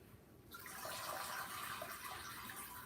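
Water from washed salad greens in a kitchen pours out in a steady, splashing rush that starts abruptly and continues close and moderately loud.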